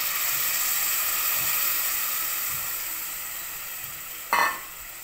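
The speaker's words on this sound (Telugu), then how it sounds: "ఇందులోకి కొంచెం చింతపండు రసాన్ని యాడ్ చేసుకుందాం" Eggplant frying in a pan for bagara baingan as tamarind juice is added, a steady loud sizzle throughout with a brief sharp hiss burst near the end.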